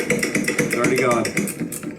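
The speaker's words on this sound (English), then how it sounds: "use the ratchet wrench, move it around until you find the hole" Ratchet wrench spinning a bolt while fitting a wind deflector on a 2019-or-later Indian Chieftain motorcycle, a quick run of close, rapid clicking ticks lasting about two seconds.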